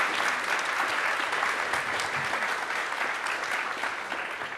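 Applause from a conference audience for a panel, a broad continuous wash of many hands clapping, steady and fairly distant, slowly fading toward the end.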